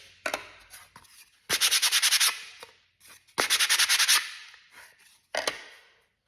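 Sandpaper is rubbed by hand over a small craft piece in quick bursts of rhythmic back-and-forth strokes, separated by short pauses and light handling sounds.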